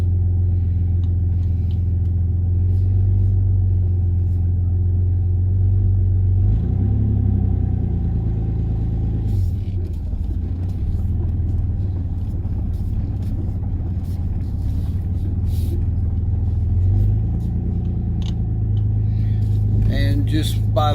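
A car on a test drive, with a manual gearbox, gives a steady low engine drone and road rumble throughout, rising and falling in pitch as it revs and shifts, with a person talking over it.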